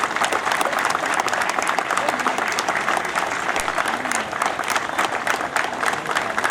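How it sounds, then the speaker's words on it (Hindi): A ceremony audience at a 75th Independence Day event at the Banaras Locomotive Works in Varanasi gives strong, sustained applause, a dense steady wash of clapping from a crowd, loud and continuous throughout. "जोरदार तालियां"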